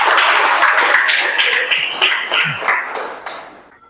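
Audience applause at a gathering: a burst of many hands clapping, dense at first and then thinning into scattered claps that fade out over a few seconds.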